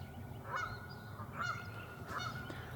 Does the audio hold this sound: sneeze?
no